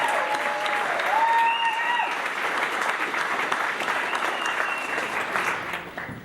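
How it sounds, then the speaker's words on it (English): Wedding guests applaud warmly in a reception room, a continuous even wash of clapping with a few faint whistles or cheers, fading gently at the end. "So if we could give a round of applause for Steph."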